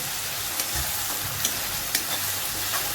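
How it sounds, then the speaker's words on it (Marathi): Steady hiss of grated raw potato frying in hot oil with occasional soft scraping and stirring clicks, no voices. "त्यामध्ये आपण बटाटा घेतला मिक्सरला बारीक करून तो टाकूया आणि परतून घेऊया"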